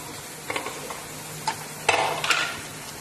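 Green chili and curry leaves stirred in a hot pan for chicken curry, a few scraping strokes and soft sizzling bursts, close and moderately loud with no talking.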